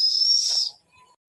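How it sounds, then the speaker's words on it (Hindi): Pressure cooker whistle from dal cooking on a stove, a loud, sustained high-pitched shriek lasting under a second, then cutting off to near silence before a short burst of hiss. "सीटी मारे के मतलब है बतावा था कि दाल तोहार पकी गई बा"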